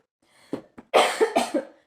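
A short burst of coughing, several quick close coughs in a row, clear and isolated against silence.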